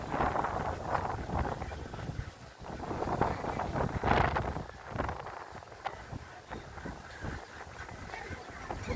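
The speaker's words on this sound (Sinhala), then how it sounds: "ඉන්න බෑ ඒ තරම් හුළඟ සැරයි" Strong wind buffets the microphone high up on a stupa at Dighavapi, a continuous loud roaring rush with gusts, especially around four seconds.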